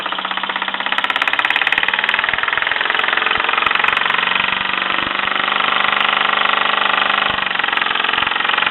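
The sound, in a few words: 1949 Mamod SE2 toy steam engine running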